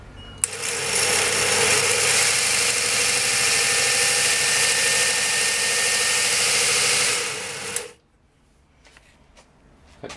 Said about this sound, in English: just taken delivery of this small Chinese linishing machine and the first impressions are excellent